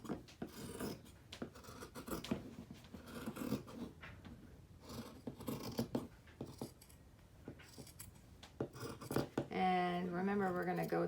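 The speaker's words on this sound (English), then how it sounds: "We're just going to cut up that seam." Scissors snipping and rasping up the seam of a trench coat, a steady series of close, crisp cuts and fabric rustle, ending with a brief burst of a different tonal sound.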